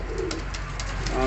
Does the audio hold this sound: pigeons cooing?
yes